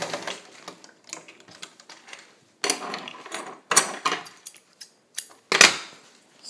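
A Singer Featherweight 221 sewing machine stitches over a thick fabric seam in uneven bursts of rapid mechanical clatter, separated by short pauses and a few sharper ticks, close by and without speech.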